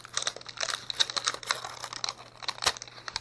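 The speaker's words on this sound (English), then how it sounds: "And then you can just peel off the wrapping." Crinkly plastic rustles and crackles in short bursts close by, like wrapping being peeled and pulled away.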